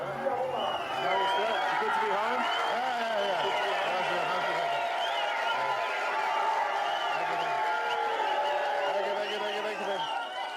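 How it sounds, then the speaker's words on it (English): A crowd gathered at an election rally in Tari, Papua New Guinea, keeps up a steady, dense murmur of many voices with scattered calls and shouts. It stays loud and continuous throughout. "today, the crowd is in good spirits"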